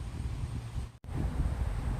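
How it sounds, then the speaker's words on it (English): Steady wind gusting across a microphone outdoors in a garden beside potato grow bags, a constant low rumbling buffet that drops out briefly midway before resuming. "it's windy out here"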